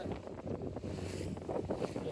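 A boat engine runs at sea off Malvan during a dolphin-spotting safari, a steady low rumble mixed with wind buffeting and water wash, fairly faint and continuous throughout.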